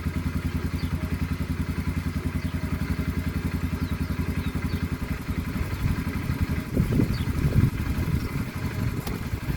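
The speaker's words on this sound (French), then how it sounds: "démarrage au kick comme ça" Motorcycle, likely a Yamaha XT, kick-started and then idling with a steady rapid thumping putter, close and fairly loud, with a few clanks and rattles partway through.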